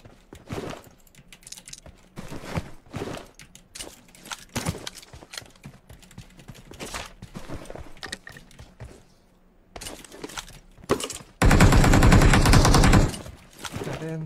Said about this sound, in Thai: ใครยิงอะไรอ่ะ